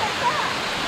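Erawan Waterfall in Thailand pours with a steady, dense roar of rushing water, loud and close, with no break over the short moment.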